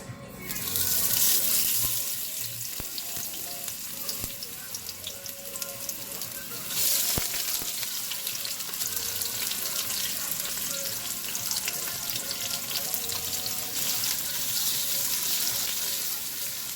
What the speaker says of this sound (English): now that our oil has warmed up a little bit, I heard it pop, we're going to add the onions first